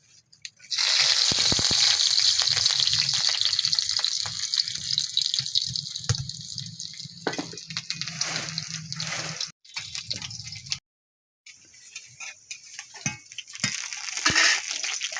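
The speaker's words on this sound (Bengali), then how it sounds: "আর এই যে কালি জিরা নিলাম কালি জিরা ফুরনের জন্যে আর এই যে পেঁয়াজ কুচি দিলাম" Nigella seeds and chopped onion dropped into hot oil burst into a loud sizzle that gradually settles into a softer, crackling fry, with brief pauses and stirring clatter near the end.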